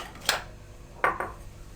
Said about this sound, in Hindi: अब सबसे पहले मैदे और बेसन को मिक्स कर लेते हैं